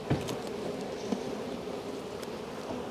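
Honeybees drone steadily around an open hive while a beekeeper works the frames, a continuous close buzz with a few brief knocks and bumps and no talking.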